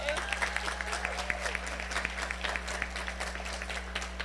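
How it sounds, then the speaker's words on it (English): An audience claps in a round of applause at an International Women's Day event, steady dense clapping over a low background hum for the whole stretch. "Please give her a round of applause."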